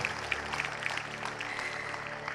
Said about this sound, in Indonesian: Tepuk tangan yang hangat.